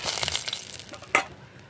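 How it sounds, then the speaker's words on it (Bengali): Bay leaves drop into hot oil in a wok and crackle softly, with one sharper spitting burst near the end before the sizzle fades. "কড়াইতে তেজপাতা দিয়ে দিলাম"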